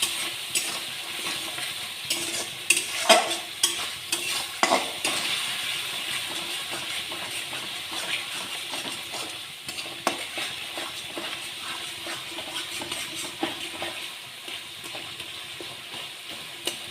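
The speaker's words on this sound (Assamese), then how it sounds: "মোৰ মছলা পূৰা ভজা হৈ গৈছে" Masala spices fry in a pan for Assamese-style chole, a soft continuous sizzle with scattered scraping and clinking as they are stirred, fairly quiet and close, with no talk.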